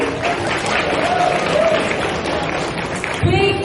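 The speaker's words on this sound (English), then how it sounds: "big round of applause for them" A convention audience at the Animaritime 2017 anime convention applauds in a dense, steady wash of clapping that fills the whole stretch, with a voice carrying over it.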